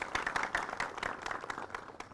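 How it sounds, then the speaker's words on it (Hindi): A crowd claps in a quick, steady burst of applause, fairly distant, with many hands overlapping and no speech. "जोरदार तालियां अपने लिए।"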